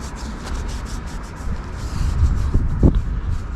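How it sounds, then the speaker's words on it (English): Gentle rubbing of a microfiber cloth over a replica Renault ELF decal on a rear car window, a soft continuous brushing that grows slightly louder partway through, close by. "I'll just use the microfiber nice and gently."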